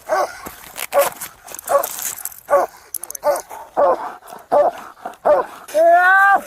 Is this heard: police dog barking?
yes